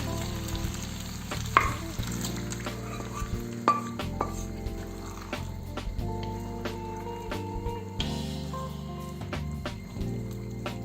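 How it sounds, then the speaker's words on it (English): Pork belly stir-fries in a pan with sweet soy sauce and vegetable seasoning, giving a steady close sizzle. Frequent clinks and scrapes of a utensil against the pan punctuate the frying. "And finally, add in the pork belly."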